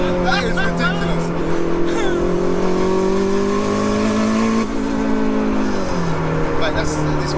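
A big-turbo Toyota MR2 sleeper accelerating hard, its engine note climbing steadily in pitch before a brief dip and a second rising pull, loud and close, with voices faintly under the engine.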